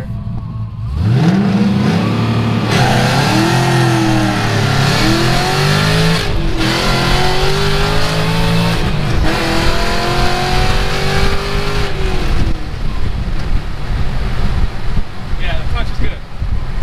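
A Pontiac GTO launches hard at 4,500 RPM, the engine roaring up through several rising sweeps as it shifts gears, loud and close with heavy wind buffeting, then settling to a steady drone.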